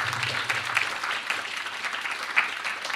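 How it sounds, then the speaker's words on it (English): Audience applause at a panel discussion on Germany's soft power, a steady patter of many hands clapping at moderate volume with no speech over it. "Let's give them a very warm round of applause, if you would please."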